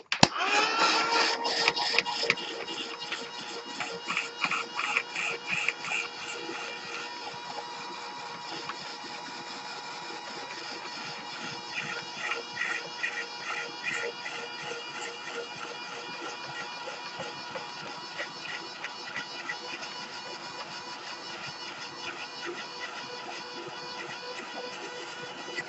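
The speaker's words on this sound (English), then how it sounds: "And let's hit it with the heat dryer." A heat dryer blows steadily across an art journal page, a continuous whirring hum with a sharper burst at the start, loud and close, with no talking.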